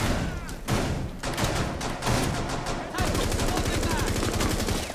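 Dense, rapid automatic gunfire and shots from Rainbow Six, loud and close, with bursts in the first few seconds, then a sustained rattling volley to the end.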